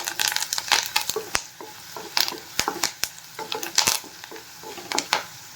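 Idli upma mixture stirred in a pan with curry leaves and turmeric, a spoon scraping and clinking against the metal in irregular strokes over a soft sizzle, close and alone.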